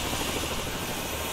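A helicopter carrying hunting dogs for a mountain boar hunt drones steadily and loudly close by, its rotor and engine forming a dense, unbroken roar with no talking.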